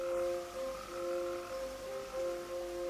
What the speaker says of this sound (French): Le crapaud.